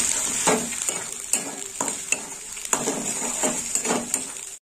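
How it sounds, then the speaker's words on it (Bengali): Ginger and green chilli paste being stirred in a hot pan for a fish head curry with cauliflower, rhythmic scraping strokes over a bright continuous sizzle, close and loud, with no voices. "আর একটু নেড়ে চেড়ে নেবো।"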